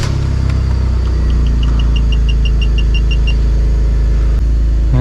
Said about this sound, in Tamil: போய் காரை ஸ்டார்ட் பண்ணலாம்.